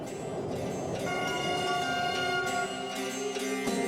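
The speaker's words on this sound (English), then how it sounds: "The train can reach a speed of 250 kilometers an hour." High-speed passenger train in Turkey running at speed toward Istanbul, a loud steady rumble with rising and falling tonal whines layered over it, continuous and close.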